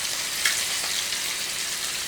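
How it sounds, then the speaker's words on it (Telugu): Small nethallu fish frying in hot oil, a steady close sizzle and crackle with no pauses and no one speaking. "ఇదిగోనండి చక్కగా వేగుతున్నాయి."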